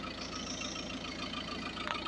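A two-litre diesel car engine idles with a steady, even mechanical clatter and low hum, continuous throughout at close range with no voices.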